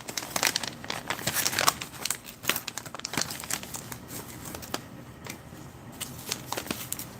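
Crisp plastic crinkling and tearing as a US Halal MRE ration packet (lentils in masala sauce) is cut open, with close, busy rustles that keep going throughout.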